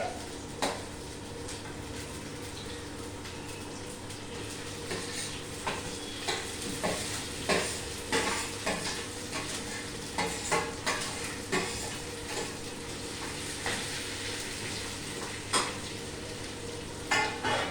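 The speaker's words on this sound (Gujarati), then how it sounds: "અને એમાં હવે આપણે આ બટાટાનું પૂરણ નાખી દઈએ." Potato filling for a cheese corn sandwich stirred and cooked in a pan over low heat, with a soft, steady sizzle under repeated spoon scrapes and light metallic clinks against the pan.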